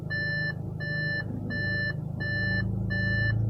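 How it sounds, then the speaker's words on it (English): Reversing warning beeps from an Audi as it is put into reverse during a Quattro Haldex oil change: five steady repeated electronic beep bursts, evenly spaced, over a low constant engine hum, close and clear with no talk. "So then I should start going in reverse."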